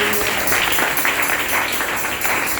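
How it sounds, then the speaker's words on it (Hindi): An audience claps in thanks during a Hindi Bible sermon on love, a steady, dense patter of many hands at moderate loudness, continuing without a break and with no voices over it. "ताली बजाकर धन्यवाद।"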